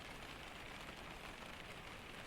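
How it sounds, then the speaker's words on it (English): Steady rain falls outside, a full, even hiss with no breaks or changes, quiet and continuous throughout. "The rain continues outside, steady and full, and entirely without hurry."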